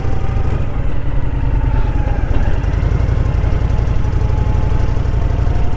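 A motorcycle engine drones loudly and steadily during a ride, its even rumbling pulse continuing without a break and with no speech over it.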